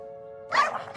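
Cartoon dogs from the Mr Bean animated series give a quick burst of sharp barks that breaks in after a held musical tone, close and loud, lasting only about half a second.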